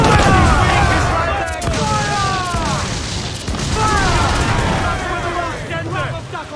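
Pirate ship cannon fire in Assassin's Creed 4 Black Flag, heavy booming blasts and rumbling crashes at sea, loud and close, under shouted crew commands and music.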